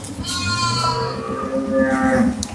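A close, drawn-out low moo-like bellow from Jersey dairy cows, with a second call overlapping it, heard amid a barn's background noise.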